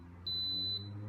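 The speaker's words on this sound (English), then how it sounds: "In a moment it will beep to indicate that it is set into" An Instant Pot pressure cooker gives one clear high electronic beep lasting about half a second, close and alone over a low steady hum.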